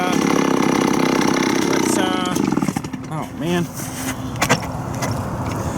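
A Stihl 041AV chainsaw, freshly reassembled, running loud and rough while cutting wood and then dropping to an uneven idle, with a man's brief exclamation over the engine.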